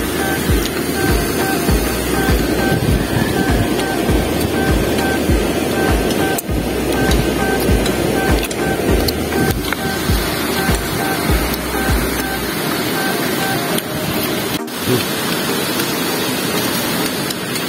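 Water pouring over a river spillway makes a constant loud rushing roar, a dense unbroken wash that runs steadily throughout, with occasional knocks and a thump near the end.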